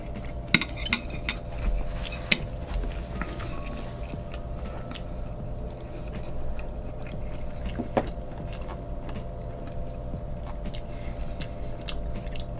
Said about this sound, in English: I'll do a sausage bite.